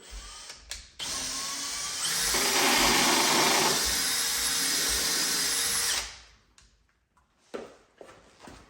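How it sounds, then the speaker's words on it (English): A power drill whirs up and bores steadily into a wooden 2x4 for several seconds, its pitch shifting under load, then winds down, followed by faint handling clatter. "I could drill that right into the 2x4."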